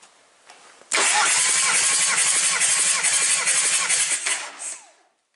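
A 2005 VW Touareg 2.5 diesel with a BAC engine cranks over during a compression test on the first cylinder, a sudden loud starter whir with rhythmic pulses lasting about four seconds after a quiet lead-in.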